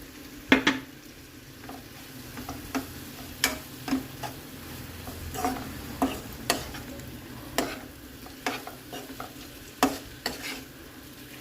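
Curry with tamarind and sesame powder is stirred in a pan. A soft sizzle sits underneath repeated sharp clicks and scrapes of a spoon against the pan, coming at irregular intervals. The sound is close and fairly quiet, with no voices.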